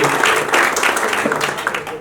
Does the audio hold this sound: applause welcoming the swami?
yes